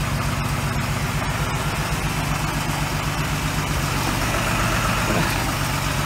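A 4.3-liter OMC Cobra engine in a 1990 Four Winns 180 Horizon runs at a steady idle out of gear, a loud, close, even low rumble that holds throughout.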